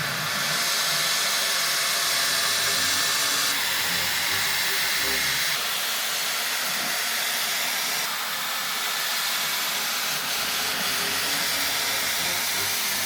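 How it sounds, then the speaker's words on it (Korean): A Laifen hair dryer blowing very strong air through wet hair at the roots, a loud continuous rushing hiss whose tone shifts a few times as the nozzle moves. "제가 사용하는 드라이기는 놀랍게도 중국제입니다. 라이펀 드라이기."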